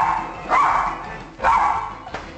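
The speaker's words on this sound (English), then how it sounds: "When barking is a problem, who are you going to call?" Dogs bark indoors, close and loud, with three sharp barks spaced about a second apart and some faint background voices.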